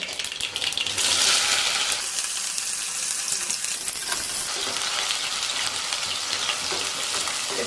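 Onions and green chillies fry in oil with a steady, close sizzle, a broad crackling hiss that swells early and then holds evenly throughout, with no voices.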